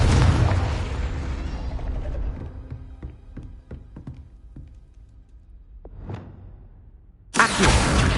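A Confringo explosive spell goes off in the Hogwarts Legacy video game, a loud booming blast that decays into a string of scattered crackling pops, followed by a quieter burst and then another sudden loud hit at the end.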